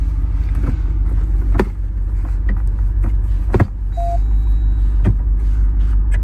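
Steady low rumble of a 2026 Jeep Wrangler 392 V8 idling on an off-road trail while it is stopped and shifted through neutral into 4 low, with a few soft clunks and a brief faint chime over the engine drone.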